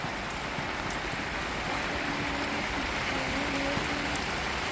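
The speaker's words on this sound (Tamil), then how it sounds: "காற்று மழையும் தான் அடித்து ஊற்றிக்கிட்டு இருக்கு." Heavy rain pours down steadily in strong wind during a severe storm, a dense continuous hiss of drops that stays loud from start to end with no voices.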